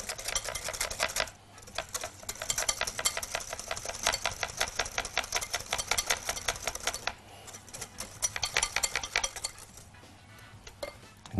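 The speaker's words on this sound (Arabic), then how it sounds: "واخدين مضرب سلك دهوت، ونقلب الكريمه دي مع بعضها" A wire whisk beats sweetened cream in a bowl with rapid, steady metallic clicking and scraping against the sides, up close, pausing briefly and then starting again, with no voices.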